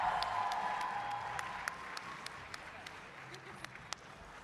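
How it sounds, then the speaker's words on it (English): An audience at a cosplay championship applauds steadily, a soft, dense wash of clapping with a few sharper claps standing out, heard from a distance in a large hall. "Everybody, big round of applause for her."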